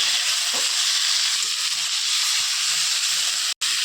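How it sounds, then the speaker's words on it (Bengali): Spice paste with turmeric fries in a pan for a Bengali goat mutton curry, giving a steady close sizzling hiss with soft scraping thuds as it is stirred, alone without talk. "এবার আমি এতে পরিমাণ মতো হলুদ দিয়ে দেবো হালকাভাবে নেড়ে নিচ্ছি"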